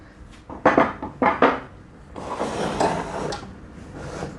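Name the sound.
fitting the extension base onto a Stanley SM16 mitre saw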